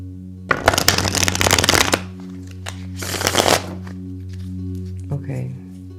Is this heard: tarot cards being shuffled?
yes